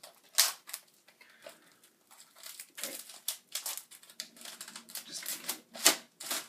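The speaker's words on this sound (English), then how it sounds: "So let's just get this box opened up." Cellophane wrapping crinkles and crackles close up as a Marvin Gaye record box set is opened, coming in irregular bursts of rustling and tearing with brief quiet gaps.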